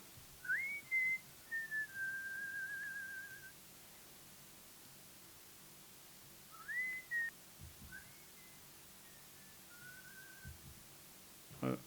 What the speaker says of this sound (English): So it's like my dad whistling to his favorite country and western music